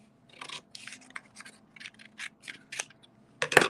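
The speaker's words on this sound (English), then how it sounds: "Now I can cut this off." Scissors cut through excess card stock for a handmade envelope card, a run of crisp, close snips in short bursts with brief pauses, ending in one louder final cut.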